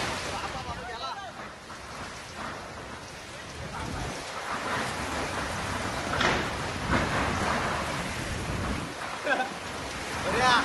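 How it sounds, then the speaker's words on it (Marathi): Heavy unseasonal rain lashing down with strong gusting wind in Shahapur, a loud continuous roar that swells and dips, with voices partly audible underneath. "शहापूरमध्ये सोसाट्याच्या वाऱ्यासह तुफान पाऊस झाला असल्याचं एकंदरीत बघायला मिळतंय"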